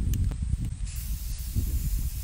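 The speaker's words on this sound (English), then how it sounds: "When you spray these on the water," Two spray paint cans, one in each hand, hiss steadily as paint sprays onto water in a tub for hydro dipping, a loud, close, continuous rushing spray with slight pulses.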